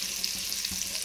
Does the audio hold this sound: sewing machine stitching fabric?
no